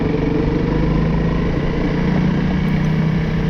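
A Honda CRF 300L motorcycle with ABS brakes on a gravel road, its engine droning loud and steady close by throughout with no voices.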